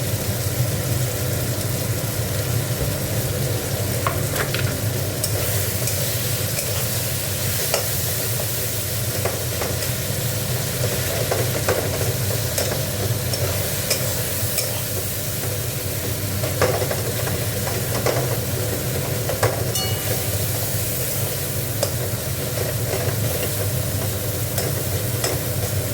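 Tomato and onion fry in a pan with salt, turmeric and chili powder, a continuous dense sizzle with occasional stirring scrapes, close and steady with no talk.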